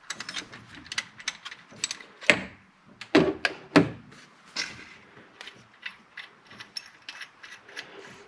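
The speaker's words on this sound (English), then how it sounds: "This is a 14mm socket that will take this off." Ratchet with a 14mm socket working the idler pulley bolt loose on a 2013 Subaru Forester, sounding as close, irregular bursts of sharp clicking with a few louder clacks and no talking.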